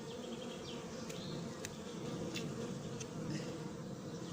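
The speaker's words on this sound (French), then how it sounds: "il y a un gros paquet d'abeilles là" Honeybees buzz in a dense, steady hum close by while a hive is being populated at Noisy-sur-École, with a few brief clicks and knocks over the swarm.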